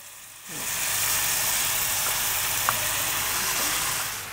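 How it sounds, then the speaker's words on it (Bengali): Dried chillies drop into hot mustard oil for tempering, bursting into a sudden loud hissing sizzle after a quiet moment, then holding steady before easing off slightly at the end. "মানে সরিষার তেলে শুকনো মরিচের ফোড়ন।"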